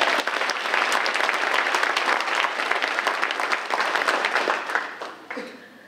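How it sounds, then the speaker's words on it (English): A large audience at an award ceremony honoring influential African Americans in Mississippi breaks into sustained, dense applause that stays loud for about five seconds, then thins and fades out. "let's give him a big round of applause"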